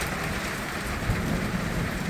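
Heavy hail and rain pour down steadily in a storm over Tyabb, with a low thunder rumble underneath, a dense unbroken roar with no voices.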